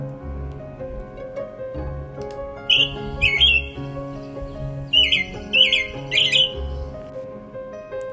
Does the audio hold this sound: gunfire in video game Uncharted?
no